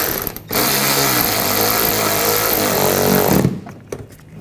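A power tool or ratchet drives a screw home on a 2014-2020 Nissan Rogue headlight assembly, giving about three seconds of steady, loud mechanical whirring that starts and stops abruptly, close by with no talking.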